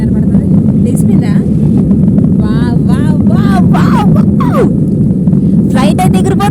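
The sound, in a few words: airplane accelerating for takeoff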